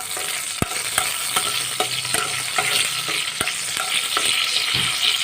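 Nigella seeds and four green chillies sizzle loudly in hot oil, with a steady crackling hiss broken by repeated sharp clicks of a spoon stirring against the pan, no voices over it.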